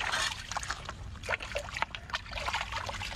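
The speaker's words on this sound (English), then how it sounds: "The water sound." Water trickles and dribbles softly in a continuous light stream, close and fairly faint, with small splashy ripples and no voices.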